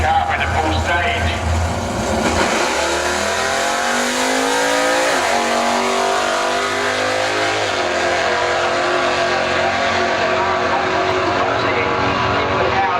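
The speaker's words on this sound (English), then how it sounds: "here he goes, bringing the car up into full stage" A drag racing car roars down the quarter mile at full power, its engine loud and continuous as the pitch climbs through gear changes, with faint tire noise and an announcer talking over it.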